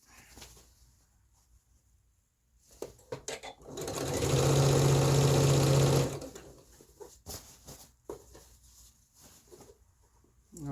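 A sewing machine stitches a pants pattern in one loud, steady run of about two seconds, bracketed by quieter handling clicks and fabric rustles before and after.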